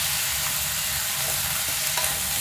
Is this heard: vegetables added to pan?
yes